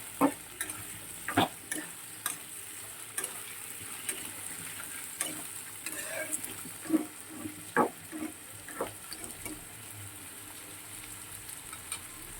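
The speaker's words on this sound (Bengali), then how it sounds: "এটা একটু খুব ভালো করে একটু লাল লাল করে ভেজে নেবো।" Potatoes and onions sizzle and spit in a hot pan, punctuated by sharp clicks and scrapes of stirring; no voices.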